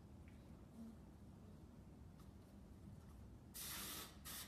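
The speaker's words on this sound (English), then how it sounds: "Spray some of this good daily fragrance." A quiet room tone, then two short hissing bursts of fragrance body spray near the end, the first longer than the second.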